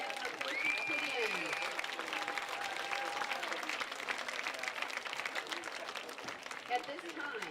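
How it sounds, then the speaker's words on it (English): Crowd applauding at a high school football homecoming game, a sustained wash of clapping heard from a distance, with voices and a faint whistle mixed in. "give a round of applause for all the hard work and effort that these students and their coaches put in"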